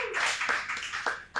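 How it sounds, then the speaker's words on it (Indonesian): Brief burst of hand clapping from a small group, quick and uneven, with a sharper clap near the end. "Tepuk tangan dulu buat Bernard."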